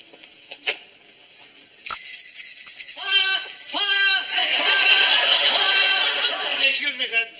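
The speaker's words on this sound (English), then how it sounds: "That was a bicycle bell." A bicycle bell rings with bright, repeated metallic trills near the middle of the scene, over steady background noise and some talk in an indoor shop setting during a fire practice.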